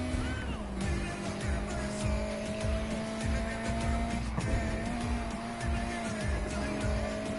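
A low-powered car races around a track in a driving game, its engine droning steadily with a rising whine. Tires squeal repeatedly through the turns, and there is no talk over the driving.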